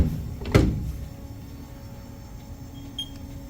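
Doors on a Haas CNC machine shut with one firm thud near the start, followed by a low steady hum of the machine and a faint beep later on.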